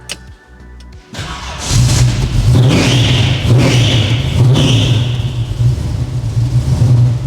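A classic American car with an engine of about 600 horsepower cranks and fires up, then settles into a loud, deep, lumpy idle with a few revs, heard close and alone.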